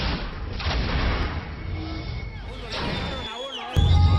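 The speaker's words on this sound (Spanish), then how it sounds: "Disparos en la avenida Patria, centro norte de Quito." Several sharp cracks of gunfire ring out over a noisy outdoor crowd on a city avenue in north-central Quito, with a loud burst near the end.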